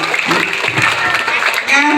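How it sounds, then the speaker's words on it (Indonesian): Children clap their hands during a storytelling session, a lively scattered patter that mixes with chatter and talking voices throughout. "tepuk tangan dulu dong"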